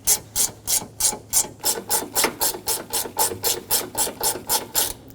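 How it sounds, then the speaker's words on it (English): A hand ratchet tightening radiator bolts on a 2007-2014 Chevrolet Silverado 2500 HD, clicking in a fast, even run of about sixteen rasping strokes, close and distinct with no talk. "I have my ratchet ready."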